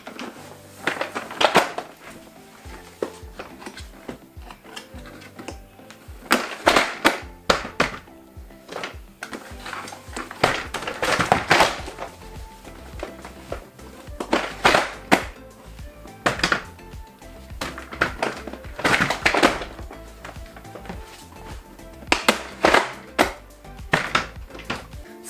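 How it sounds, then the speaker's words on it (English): A Doona car seat stroller has its wheels dropped and locked into place, giving scattered plastic and metal clunks and clicks at close range, spaced irregularly with quieter handling noise between. "we're going to squeeze the trigger and it will drop the wheels, and then you place down."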